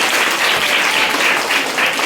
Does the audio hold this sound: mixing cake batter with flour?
no